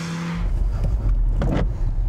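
Identical VW Golf cars on a wet tyre test track, a close engine rumble building and surging as a car drives past, with a brief higher whoosh midway.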